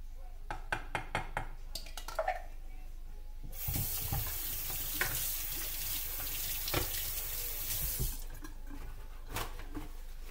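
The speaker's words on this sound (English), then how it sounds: "we're just going to pour it right on into the pan." Liquid poured into a frying pan during preparation of a lemon curd glaze for stuffed salmon, a steady hissing, splashing rush that starts suddenly partway through and continues close and fairly loud, with a few clicks beforehand.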